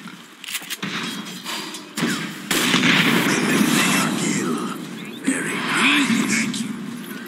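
Tower under attack in Dota 2, with a dense barrage of explosive bursts and booming impacts layered over busy in-game combat noise, loud and continuous, with spoken announcer alerts mixed in.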